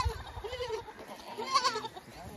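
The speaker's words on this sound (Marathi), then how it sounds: "हे पिल्लावाले शेळ्या आहेत बघा।" Osmanabadi goats and their kids bleating on a goat farm, several wavering cries close by, one around the middle standing out loudest, with low handling noise at the start.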